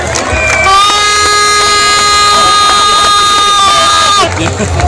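A loud, dense crowd at a women's mud wrestling final roars and cheers continuously under an announcer's booming voice and music, ending abruptly.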